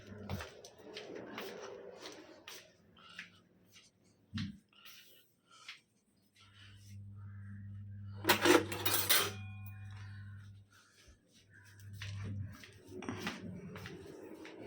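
A metal spoon clinks against a cup while coffee is prepared, a scatter of light close taps with a denser burst of clatter midway, over low background hum.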